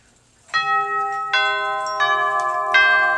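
An hourly chime on a handmade clock built from old outdoor wind chime tubes plus one extra tube: four clear, ringing metallic tones struck one after another, each sustaining and overlapping the previous, close and alone.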